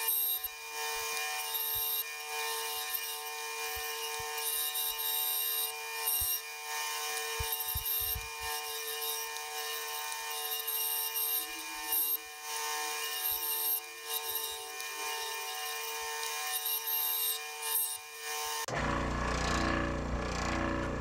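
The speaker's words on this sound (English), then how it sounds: "I usually do the curved part on my scroll saw." A scroll saw cuts a curved wooden crankbait lure blank on a workbench, a steady rapid buzzing with small rubbing and ratcheting variations that runs for most of the time before a sudden change near the end.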